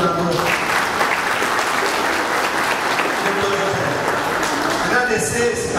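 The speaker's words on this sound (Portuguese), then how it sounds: "Uma salva de palmas ao governador." A crowd in a municipal council chamber gives lively, sustained applause for the visiting vice governor, with a few voices faintly audible beneath the clapping.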